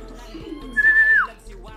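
A Taiwan pigeon gives a single clear, sustained whistling coo with a slight falling end, close and fairly loud over faint background noise.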